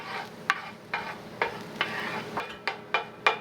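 Garlic sizzles in a pan under a steady low fry while a utensil stirs it, scraping in regular strokes about every half second, close and clear.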